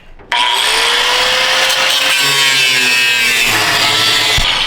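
Angle grinder fitted with a fresh blade cutting metal while removing a dump bed from a 7.3 Powerstroke truck, a loud continuous high whine that starts abruptly and holds steady, close and alone.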